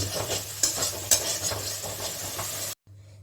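A spoon scrapes and stirs cashew gravy for paneer in a pan, making a close scratchy sound over a soft sizzle, then it stops abruptly.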